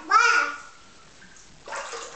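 Water splashes and sloshes in a jacuzzi at close range, with a brief high vocal sound at the start and a second burst of splashing near the end.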